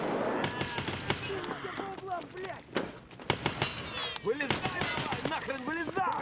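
Gunfire in the video game Escape From Tarkov during hip-fire practice: rapid bursts of sharp shots that come and go, with someone talking over them throughout.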